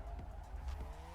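Car drifting in Assetto Corsa, a steady engine drone with a rough tire squeal, close and continuous at moderate level.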